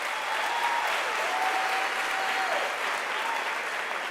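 Graduation ceremony audience at a UNISA spring graduation applauds steadily, a full, even wash of many hands clapping throughout, with a faint tonal whistle or feedback line above it.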